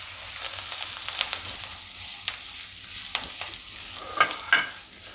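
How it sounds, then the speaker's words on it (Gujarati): Curry leaves and asafoetida sizzle in hot oil on a low flame while being mixed, for a Gujarati dal premix; a soft, steady crackle sits under scattered scraping taps of the spoon, with a few sharper clinks near the end. "હવે આપણે એમાં લીમડાના પાન નાખી દઉં અને હિંગ નાખી દઉં. આ રીતે બધું મિક્સ કરી લેવાનું."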